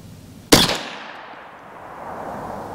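A single loud, sharp .22 rifle shot fired with CCI Stinger ammunition outdoors, followed by a fading echo and quiet background.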